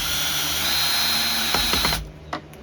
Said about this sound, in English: you really want a power screwdriver